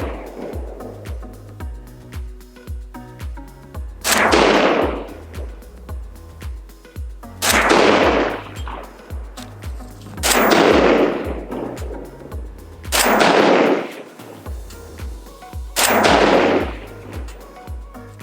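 Rifle shots from a Walser with a 16-inch barrel firing Red Army Standard 7.62x39 ammunition with the 8V3 projectile: five loud, sharp reports spaced a few seconds apart, each ringing out over a steady low hum.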